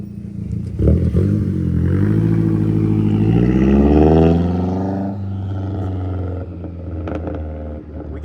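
A Mazdaspeed 3 with a resonator and muffler delete revs up, its raw exhaust climbing to a loud, rasping roar before easing back to a deep, rumbling idle up close.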